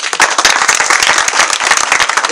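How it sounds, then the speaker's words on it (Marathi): Loud, close audience applause at an Annabhau Sathe Jayanti gathering, a dense burst of many hands clapping in quick irregular rhythm, filling the whole moment without talk. "हे याच्यासाठी एकदा टाळ्या वाजवा."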